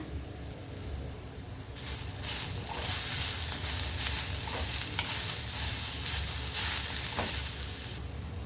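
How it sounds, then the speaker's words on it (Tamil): Grated carrot frying in a pan while being stirred, a continuous close sizzle with repeated bursts of scraping and tossing that swell and fade over several seconds. "கேரட் நல்லா வதக்கி விட்டுக்கோங்க"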